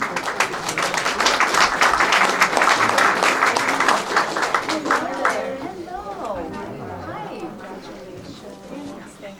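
Audience applause at a Congressional Gold Medal presentation ceremony in Simi Valley, honoring a veteran's family; steady clapping from a crowd fills the first half, then thins as a voice speaks over the fading applause.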